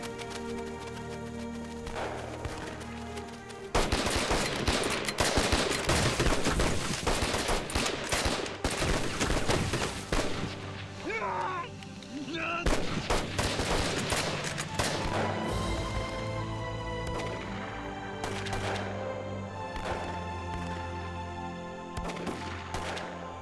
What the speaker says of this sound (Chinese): 旁边开枪。